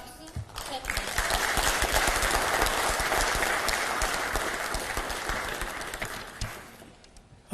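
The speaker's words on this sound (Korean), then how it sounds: "모두 환영의 박수 부탁드립니다." Warm welcoming applause from a gathering of People Power Party lawmakers greets presidential candidate Kim Moon-soo, a dense, steady clapping that swells quickly and holds loud for several seconds before tapering off.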